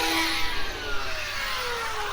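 An Arrma Mojave RC car's electric motor whines loudly at high pitch during a backflip attempt, with a steady buzzing drone that slowly drops in pitch.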